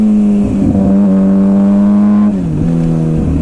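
A 2007 Suzuki GSX-R 600 sportbike on a cold, wet day, its engine held at a loud, steady high rev close by, then easing down to a slightly lower pitch and holding there, with no voices.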